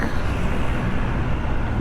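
Heavy road traffic in Denizli heard from a Husqvarna Svartpilen 250 motorcycle, a dense continuous low rumble of engines and road noise, steady and loud throughout.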